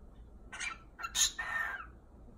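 A pet cockatiel gives a few short, bright chirps and squawks in quick succession, close and fairly loud against a quiet indoor background, the last call a longer warbling note.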